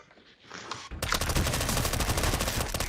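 Rapid gunfire erupts in a Counter-Strike: Global Offensive wingman match, a loud, dense burst of automatic shots following a quieter moment of game ambience.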